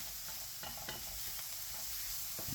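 Sautéed vegetables with pimento powder stirred in a pot, soft scraping spoon strokes over a faint steady sizzle, close and quiet with no voices.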